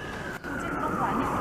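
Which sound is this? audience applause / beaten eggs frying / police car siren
police car siren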